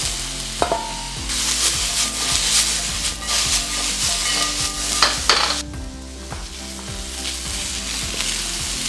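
Vegetables fry in oil in a pan, a constant sizzle with repeated scraping and stirring from a wooden spatula, close and moderately loud throughout.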